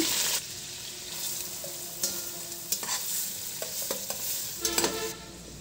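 Chopped garlic frying in soybean oil in a pan for vegetable fried rice, a continuous close sizzle broken by several sharp scrapes and knocks of a spatula stirring, with no voices.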